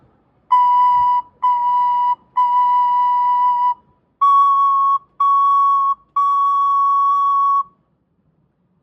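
Tin whistle playing a short phrase of clear sustained notes, three then three more slightly higher, each held with brief gaps between, loud and alone with no talking.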